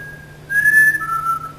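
A person whistles an imitation of a black-capped chickadee's song: one high, clear note followed by a lower note split into two short parts, close and steady.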